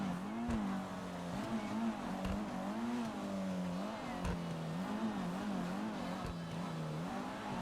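A stolen car in a video game drives with its engine revving steadily, the pitch rising and falling in waves, marked by occasional sharp knocks, faint and unaccompanied.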